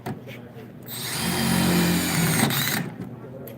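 A Milwaukee M12 Fuel Surge hydraulic driver runs a fastener in one sustained burst of about two seconds, a fairly loud whirring drive rising and holding before cutting off, with quieter background noise before and after.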